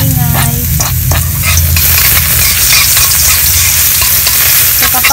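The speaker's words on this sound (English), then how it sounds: "Then after mainit yung oil guys, ilagay na natin yung bawang." Garlic frying in hot oil in a pan while being stirred, a loud continuous close sizzle with scraping stirs and a few clanks of the utensil, no talking.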